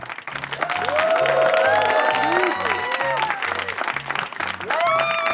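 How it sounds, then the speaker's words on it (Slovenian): Loud audience applause filling a live Slovenian stage show, sustained across the whole stretch while music with a regular low beat plays underneath. "Dajmo en bučen aplavz"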